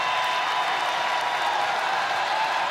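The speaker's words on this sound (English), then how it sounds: "Now the crowd certainly coming alive." Crowd noise building in a basketball arena during a women's college game, Minnesota against Ohio State, a continuous roar of cheering and applause that stays broad and steady throughout.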